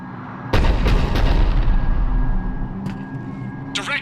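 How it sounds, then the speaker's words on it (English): Heavy cruiser cannon bombardment in Mass Effect 3: a sudden loud booming blast opens a sustained rumbling barrage that rolls on for several seconds, with a few sharper cracks and crackling at the tail. "cruiser initiating bombardment"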